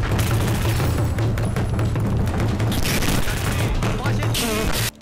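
Sustained AK rifle fire in Battlefield 4, fast rhythmic automatic shots with booms and battle noise layered in, loud and close, a brief in-game voice heard near the end.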